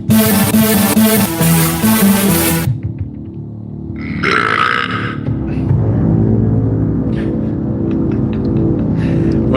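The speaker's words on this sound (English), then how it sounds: "that a burp?" A loud, throaty human burp erupts after a burst of busy music cuts off during a live improv music show, followed by a few quieter rustles and small noises.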